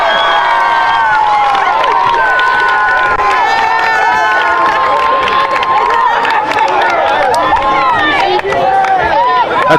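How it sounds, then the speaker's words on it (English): A student section cheers and shouts at a high school varsity football game, a dense, lively crowd roar of many overlapping voices, with excited yells rising throughout. "She's up with the crowd. She has them going. She's in the student section."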